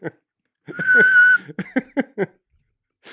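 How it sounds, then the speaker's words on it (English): A short whistled note, steady and mid-pitched, rises out of casual talk and laughter, with people chatting before and after it. "I'll bring in the whistle."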